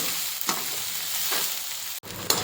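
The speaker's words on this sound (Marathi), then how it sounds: "आता मी त्याच तेलमध्ये सोयाबीनसुद्धा फ्राय करून घेणार आहे" Soybeans frying in hot oil in a pan, a steady close sizzle and crackle with brief stirring scrapes and one short break near the end.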